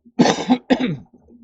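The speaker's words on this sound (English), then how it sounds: "sorry for the coughing" Several harsh coughs in two bursts during a guitar lesson, close and loud, followed by a faint throat sound; no speech.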